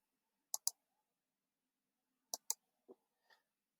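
Computer mouse clicks come in two quick double clicks, a couple of seconds apart, followed by two softer single clicks, crisp and close with silence in between.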